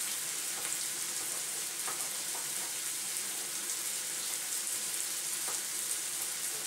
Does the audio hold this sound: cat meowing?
no